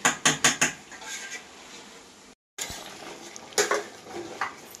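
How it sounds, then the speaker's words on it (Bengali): Chicken biryani ingredients being fried and stirred in a pan over low heat: a few sharp metallic scrapes and clinks of a spoon against the pan, a brief pause, then more scraping over a faint sizzle. "এটা আমি কিছুক্ষণ এবারে এইভাবে ভাজব"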